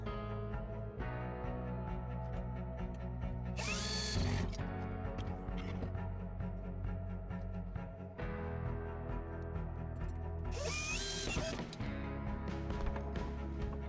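A drill drives screws that fix drawer rails into a pull-out shelf, in two short whirring bursts of under a second each, heard over steady background music.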